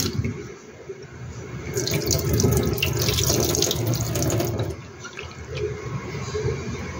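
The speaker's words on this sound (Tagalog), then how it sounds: "Hugasan po natin ang malinis na tubig." Beef being rinsed under a running kitchen faucet with clean water, a steady close rush of tap flow into a sink with splashing that swells in the middle and eases toward the end.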